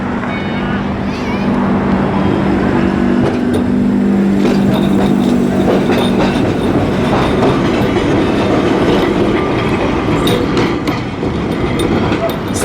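A train rolls past at Blackpool during the Illuminations, a steady loud rumble with rhythmic clatter of railcars over track, busy outdoor crowd noise around it, while people talk nearby.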